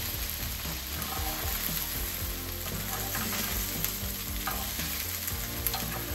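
Crispy pan-fried Brussels sprouts are scraped off a hot pan into a bowl: a continuous close scraping and sizzling rasp that never lets up, with no talk.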